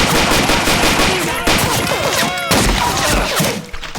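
Rapid, loud gunfire in the video game Blade of Agony, bursts of automatic shots with sharp cracks and clattering impacts, close and continuous with a brief pause midway.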